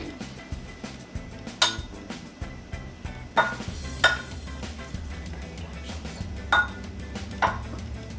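Metal utensil clinking and scraping against a pot while Parmesan cheese is stirred into macaroni, a few sharp clinks at irregular intervals over a low kitchen background.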